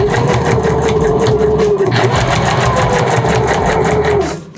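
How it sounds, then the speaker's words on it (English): A sewing machine runs a long continuous stay stitch through fabric and foam for a handmade bicycle frame bag, a steady close mechanical whir with rapid needle rhythm that stops abruptly near the end. "this is what I call a stay stitch or a set stitch, or I think people call it basting."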